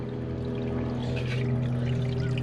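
Water runs steadily through an overflow drain clogged by beavers, a continuous close rushing flow with a low steady hum underneath and no voices.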